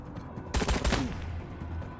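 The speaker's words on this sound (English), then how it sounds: "And then we'll start shooting this guy." A short burst of rapid gunfire in the video game Wasteland 3 lands as a few punchy shots close together, then fades into quieter game ambience.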